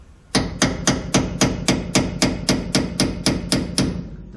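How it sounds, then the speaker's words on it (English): On a Ford/Dana axle, a pinion seal sleeve is driven in with a steady run of about fourteen sharp, close metallic hammer blows at an even, brisk rhythm, without talk. "We're going to hit the seal itself"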